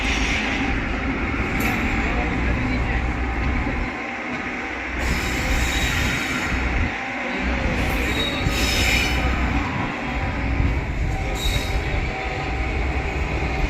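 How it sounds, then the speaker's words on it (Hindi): Passenger train departing Bandikui Junction on the Bandikui–Bareilly route, a steady loud rumble of rolling carriages with wheel squeal and rail clatter running throughout, no talk. "खुल चुकी है अपनी पैसेंजर ट्रेन बांदीकुई जंक्शन से।"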